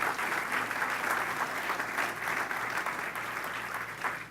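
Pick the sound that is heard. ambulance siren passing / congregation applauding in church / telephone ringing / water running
congregation applauding in church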